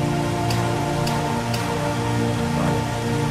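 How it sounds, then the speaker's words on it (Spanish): Rain falls in the 2D survival game Dig or Die, a dense, steady patter of drops over a low sustained tone, with a few sharper drip ticks standing out. "Esta lluvia no sé muy bien lo que me puede significar"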